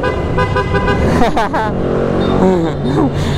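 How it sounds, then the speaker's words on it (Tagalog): Car horns honk several times amid engine noise and busy traffic near Kaybiang Tunnel, Nasugbu, with people talking over them. "So busina tayo."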